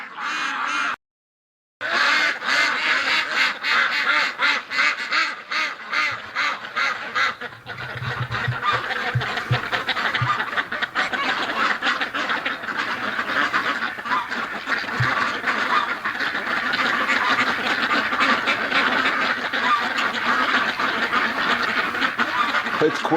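Ducks quack repeatedly on a winter morning, a dense, loud chorus of overlapping calls that carries on steadily throughout, with a brief silent gap near the start.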